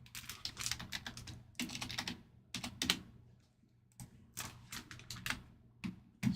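Bursts of fast tapping on a computer keyboard come in several clustered runs with short pauses between them, close and fairly quiet, with no talking.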